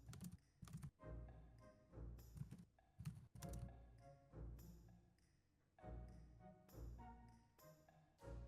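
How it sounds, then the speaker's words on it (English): Computer keyboard typing in quick, irregular bursts of clicking keystrokes with short pauses, faint and somewhat distant. "It's so funny occasionally hearing the typing."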